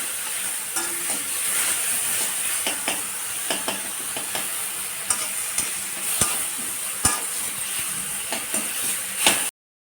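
Garlic and tomatoes fry in a pan for spicy tomato chutney, a steady close sizzle with sharp scraping stirs and clacks recurring throughout, no voices.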